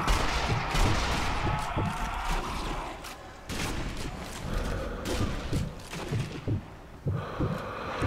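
Gunfire in the co-op zombie shooter Zombie Army Trilogy: repeated sharp shots and bursts scattered through a busy, noisy battle mix, fairly loud and close, with no clear voices over it.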